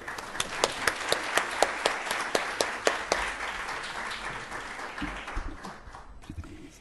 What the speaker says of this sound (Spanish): Por favor, démosle la bienvenida con unos fuertes aplausos.